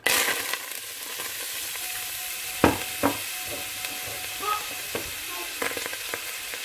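Onion fries in olive and sunflower oil in a cooking pot, a steady close sizzle broken by occasional knocks and scrapes of a spoon stirring.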